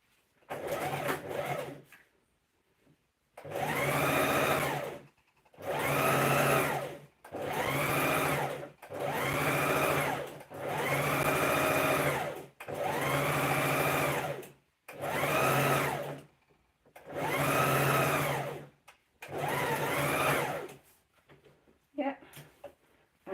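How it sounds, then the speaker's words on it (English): A sewing machine stitches fabric in repeated bursts of a few seconds each, a loud close whirring hum that starts and stops about nine times with short pauses between runs. "Let me sew the main."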